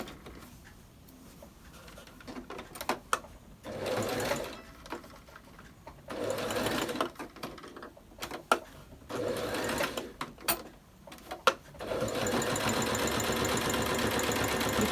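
A sewing machine closes the seam of a fabric face mask in several separate stitching bursts, each a fast mechanical whir, with a longer steady run at the end and quiet handling noises between runs.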